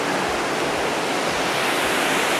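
Waterfall cascades at Voltaire Falls in French Guiana roar as a steady, loud, close wash of broadband rushing water, unbroken throughout with no voices.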